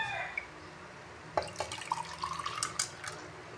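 Hot water is poured in a home kitchen while breakfast nuggets are being prepared: quiet splashing and trickling, with a rising gurgle as the vessel fills, starting after a soft lead-in.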